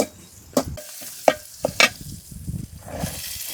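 Bitter gourd fries in a pan with a low background sizzle, broken by several sharp stirring scrapes and clinks of a utensil against the pan.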